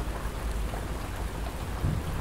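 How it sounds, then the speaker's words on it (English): Heavy rain falls steadily on a rainy camping night, a dense, continuous hiss with a deep low rumble underneath. "The rainfall becomes heavier"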